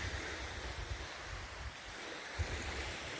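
Calm sea waves wash onto a beach on a hazy, hot morning, a steady soft surf roar with light wind rumble and a gentle swell near the end.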